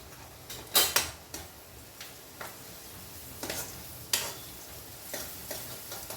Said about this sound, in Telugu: ఈ ఆనియన్స్ కొంచెం కలర్ మారితే సరిపోతుందండి మరీ రెడ్గా వేగక్కర్లేదు